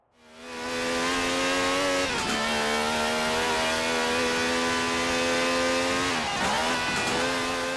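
A Dodge Viper ACR in a Forza racing game revs loud and close, its engine climbing steadily in pitch, then dropping briefly at two gear shifts before pulling hard again.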